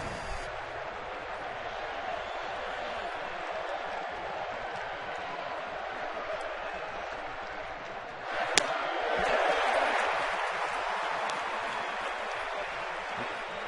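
Baseball stadium crowd at an ALCS playoff game with the Yankees batting, a steady roar of cheering and applause that swells louder near the end.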